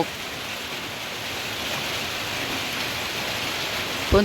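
Steady rain falls in a rural Thai setting near the start of Buddhist Lent in rice-planting season, a dense continuous hiss with no talk and one brief louder thump near the end.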